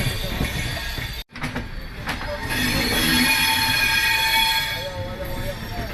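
A train rolls into Nizamuddin station with a loud steady rumble of wheels, a brief dropout, then high metallic wheel squeals rising over the noise, heard from close by on board.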